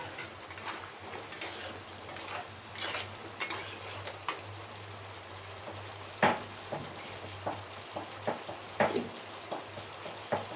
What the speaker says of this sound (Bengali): এটার উপরে এই যে সেদ্ধ করে রাখা আলুটা দিয়ে দেব